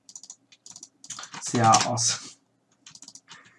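Computer keyboard typing during a Minecraft Skyblock gaming session, short bursts of clicking keys at the start and end around a louder middle stretch where someone talks.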